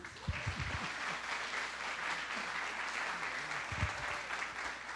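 Church congregation applauding steadily for several seconds, a dense continuous patter of many hands with a few low thumps near the start and toward the end.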